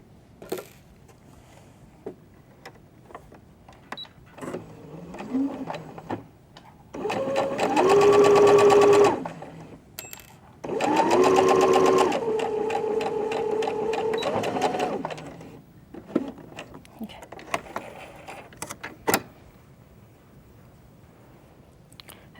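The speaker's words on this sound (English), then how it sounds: "I'm going to sew the first one that I pinned" A sewing machine stitches through pinned fabric pieces in two steady runs of a few seconds each, separated by a short pause, with quieter handling sounds before and after.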